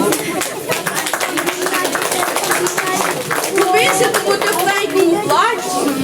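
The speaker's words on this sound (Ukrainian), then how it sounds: "Присутні оплесками зустрічали учасниць вишиваного подіуму" An audience at a charity fair claps for the women walking an embroidered-clothing runway, a dense patter of applause mixed with lively crowd chatter and nearby voices throughout.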